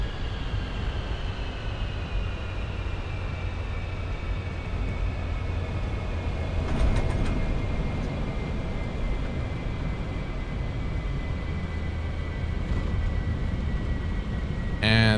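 Avro Vulcan jet engines in Microsoft Flight Simulator, throttled back to a steady, broad roar with a fading high whine, continuous and moderately loud throughout.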